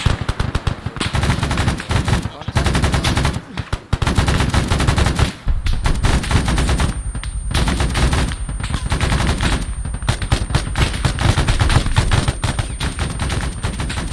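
Gunfire rattles through a Vietnam War battle in the game Arma 3 with the Unsung mod. Loud, sustained automatic bursts and rapid shots come close together, with only brief pauses between volleys.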